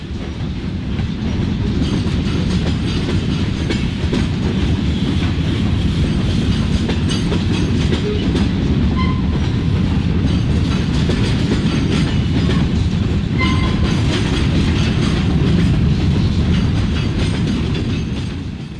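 An Amtrak train hauled by a P42 locomotive rolls past up close, a loud sustained roar of rail cars with rhythmic clickety-clack from the wheels that fades slightly at the end.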